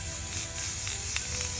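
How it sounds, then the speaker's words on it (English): A steady hissing spray of clear enamel from an aerosol can onto a plate, close and continuous for under two seconds, with faint clicks underneath. "I'm gonna spray it right now."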